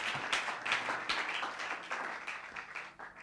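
A congregation applauds and cheers at a church talk. Dense, washy clapping mixed with crowd noise goes on for a few seconds at a fairly low level, easing off toward the end.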